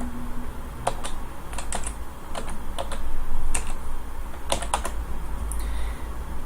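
Keys on a computer keyboard clack in short irregular bursts while a birth date is typed in, with close, crisp taps separated by brief pauses over a low steady room hum.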